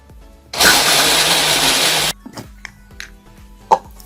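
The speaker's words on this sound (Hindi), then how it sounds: "अब मैं इस सारे मटेरियल को इतना ब्लेंड करूंगी कि ये बिल्कुल एक स्मूथ सी पेस्ट तैयार हो जाए।" A blender whirs loudly for about a second and a half, grinding lemon and other face wash ingredients into a smooth paste, then cuts off, leaving faint clicks and small knocks.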